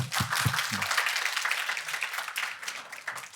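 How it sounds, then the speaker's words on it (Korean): Applause from an audience for a trainee at a public-sector HRD training contest, a dense wash of many hands clapping steadily for a few seconds, a few sharper claps standing out near the start. "글쓰기를 통해서 용기를 얻은 우리 교육생에게 박수 한번 주십시오"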